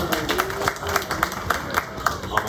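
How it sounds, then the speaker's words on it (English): A small crowd at Everglades Holiday Park in Fort Lauderdale, Florida claps in a steady, sparse rhythm at moderate volume, with faint background voices. "Sometimes people clap or something."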